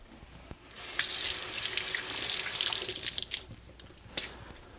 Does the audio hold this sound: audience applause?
no